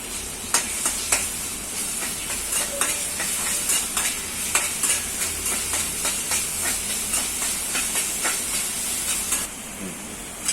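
Ginger-garlic paste sizzles in hot oil with fried onion and green chili, a continuous hiss broken by repeated rhythmic spatula taps and scrapes against the pan, close and unaccompanied by speech.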